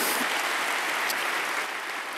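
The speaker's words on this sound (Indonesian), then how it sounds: "Berikan tepuk tangan kita untuk Tuhan kita" Congregation clapping together in a church during a sermon, a steady dense wash of applause filling the whole stretch without any voices over it.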